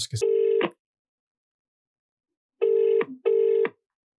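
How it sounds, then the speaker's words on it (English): Telephone ringback tones on an outgoing call to a guest: three steady buzzing rings with long gaps, loud and close, preceded by a brief dialing blip, with no talking over them. "I'll get Ruben on the phone now"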